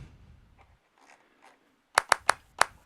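After a soft, muffled lead-in, an MPC clap sample driven through tube saturation hits five times in quick succession, sharp and punchy.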